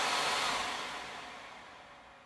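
A desktop computer with noisy fans whirs with a steady airy hum that slowly fades as it powers down.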